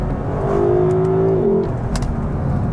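A Lexus LC500 V8 engine in Sport Plus mode pulls hard, its loud, close rising growl climbing steadily before a brief dip as it shifts, then carrying on strongly.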